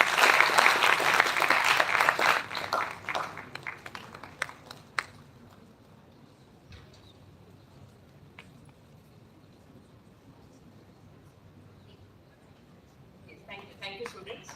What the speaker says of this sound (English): A big round of applause for the students who made